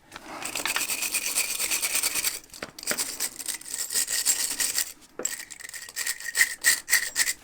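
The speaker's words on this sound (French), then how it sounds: "Brosse métallique." Wire brush scrubbing a rusty part on a Honda Transalp motorcycle, a close, steady rasping in long back-and-forth bursts with brief pauses between strokes.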